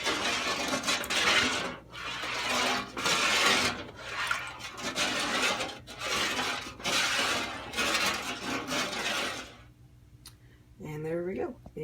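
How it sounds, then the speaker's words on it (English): Salt and dye stirred in a pot for dyeing fabric, a repeated gritty scraping and swishing in rhythmic strokes, close and fairly loud, followed by a brief pause and then a voice. "I'm stirring in all of the salt and dye to get that all mixed in together."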